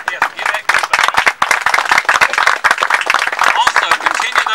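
An outdoor audience at a park dedication ceremony in Warrenton, North Carolina, applauds for drummers: dense, steady crowd clapping, close and sustained throughout, with a few voices mixed in.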